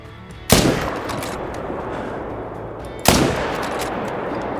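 Two loud, sharp rifle shots aimed at a moose in the hunting video game Call of the Wild, a couple of seconds apart, each with a long rolling echo fading out.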